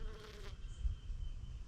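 Honeybees buzz around pollinator plants in a backyard vegetable garden, a faint, steady insect drone with a brief closer pass early on, heard against quiet outdoor ambience.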